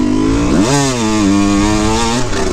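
A Yamaha YZ125 two-stroke dirt bike engine revs hard at a motocross track, close and loud, its pitch climbing, dipping and climbing again through a short burst of throttle.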